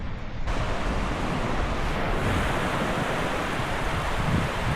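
Sea surf rolling onto a wide sandy beach near Zeebrugge on the Belgian coast, a steady loud wash of breaking waves mixed with wind noise and no voices.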